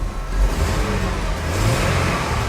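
A cheap, high-mileage Jeep with its check-engine light on idles smoothly and quietly after starting right up, a steady low rumble close by that swells slightly at moments, with no talking over it.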